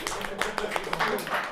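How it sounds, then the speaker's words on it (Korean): Students applauding in a chemistry classroom, a short burst of rapid, close clapping mixed with voices talking over it. "박수!"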